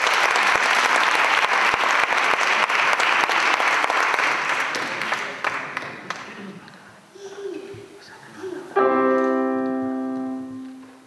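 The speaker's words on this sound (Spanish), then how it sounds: "Así que un fuerte aplauso para Bon." A crowd at a music school's closing concert breaks into loud, sustained applause for a young boy performer, fading after a few seconds before music begins.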